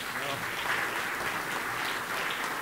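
Audience applause at a U.S. Nuclear Industry Council award ceremony, a steady wash of many hands clapping at moderate distance, with a faint voice mixed into the crowd.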